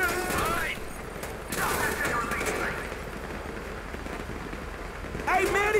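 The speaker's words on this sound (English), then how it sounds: "You hear that gunfire?" Video game gunfire rattles in bursts alongside shouting voices, with the rapid shots blended under overlapping speech and sustained background noise throughout.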